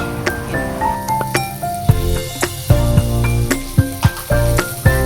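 Close pan sizzling as ginger-garlic paste fries, with sharp metallic clinks and scrapes of a utensil at irregular intervals; no one speaks.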